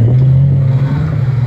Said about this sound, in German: der Motor dreht gut